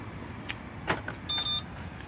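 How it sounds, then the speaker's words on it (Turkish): Side mirrors on a Renault Clio 4 fold in electrically: a short motor whir with a faint steady tone, running about a third of a second after a couple of soft clicks, close and quiet outdoors. "aynalarımız katlandı."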